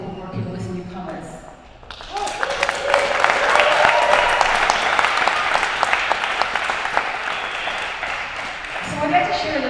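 An awards-ceremony audience breaks into loud, sustained applause and cheering for several seconds, dense clapping filling the room before fading, with a speaking voice before and after.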